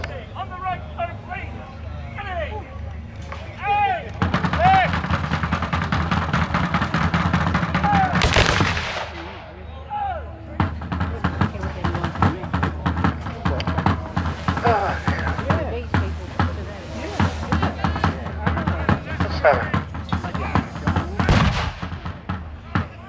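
Cannon and gunfire at a historical military reenactment show, with repeated loud booms and crackling volleys spread across the scene, mixed with someone speaking and crowd noise.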